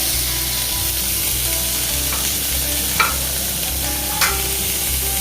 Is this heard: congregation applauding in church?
no